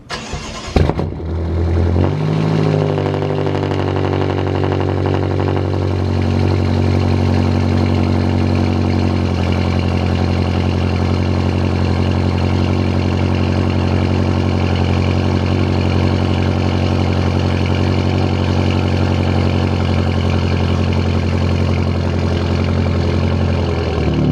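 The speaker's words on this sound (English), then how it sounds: "I'm gonna give you guys a little cold start real quick" A BMW M5 cold-starts with a sharp starter whir and a roaring catch, then settles into a loud, steady, droning idle for over twenty seconds, with no talking.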